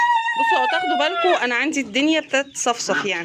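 Chickens cluck in a coop on a small bird-keeping home farm, faint, irregular clucks under a woman's continuous speech.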